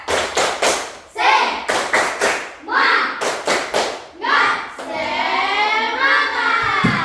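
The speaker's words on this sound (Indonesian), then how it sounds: "Kita beri tepuk tangan dulu untuk kita semua." A classroom group claps hands together in quick rhythmic patterns, with bursts of sharp claps alternating with the children's voices chanting and shouting along, loud and close.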